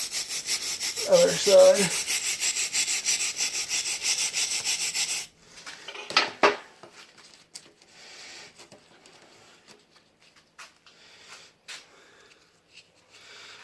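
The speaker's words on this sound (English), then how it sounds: "let's give it one more scrub on this other side" Brisk back-and-forth scrubbing with baking soda and water rasps steadily and close for about five seconds, then stops; a voice speaks briefly, followed by scattered quiet knocks and handling sounds.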